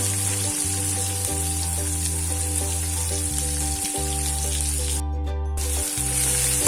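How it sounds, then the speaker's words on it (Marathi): Finely chopped onion sizzles steadily in hot oil with curry leaves, a loud, close, continuous frying hiss that runs without pause and without voices. "कांद्याला छान कडकून घ्यायचं तेलामध्ये छान परतून झाला"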